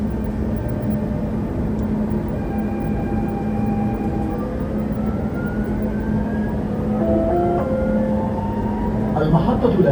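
A Dubai Metro train rides between stations with a steady loud rumble and hum, tonal whines rising and falling as it accelerates, with faint cabin sounds.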